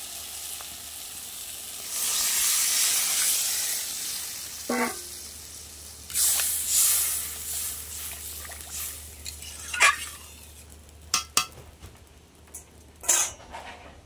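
Water poured into a pan of spice masala that has been sautéed down, setting off a loud hissing sizzle with stirring and occasional clinks of utensils against the pot, fading into steadier bubbling.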